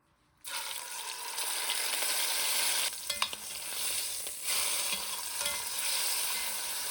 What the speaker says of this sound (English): So you just want to sear your roasts for about a minute or two each side